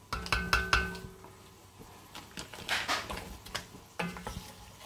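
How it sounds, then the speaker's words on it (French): Salted butter sizzling in a pan at the start of a vegetable and tuna risotto, with quiet frying hiss beneath clinks and scrapes of a utensil against the pan. "Nous allons mettre un petit bout de beurre"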